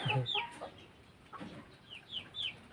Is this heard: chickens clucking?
yes